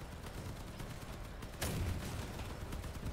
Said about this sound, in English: Fucking hate these junk guns.